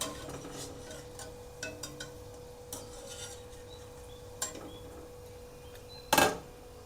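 Fried sweet potato gulab jamun lifted from a pan of oil, with light clinks and scrapes of a metal spoon against the pan at irregular intervals and a sharp clatter near the end, all close and quiet.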